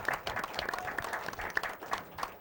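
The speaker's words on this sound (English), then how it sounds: "Let's have a round of applause for him, Ernie Barry." Steady applause from a live comedy show audience, a dense patter of many hands clapping throughout, with a faint murmur of crowd noise beneath.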